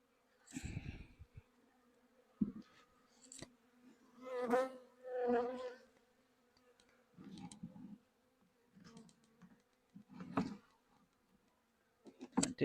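Package honeybees being released from their shipping box into a new hive in cold, rainy weather, giving soft intermittent buzzing in short bursts with a couple of louder swells, close by and alone.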